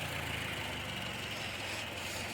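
A Toyota Camry 55's engine idles with a steady, low continuous rumble, with a broad hiss on top and no speech.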